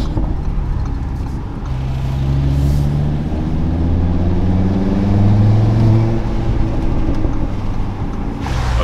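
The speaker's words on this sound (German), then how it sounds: "Ansauggeräusch ist wirklich brutal, ja." Audi RS3 with particulate filter, aftermarket exhaust and intake, driving with a steady, loud engine drone that rises and shifts in pitch as it accelerates, continuous and close throughout.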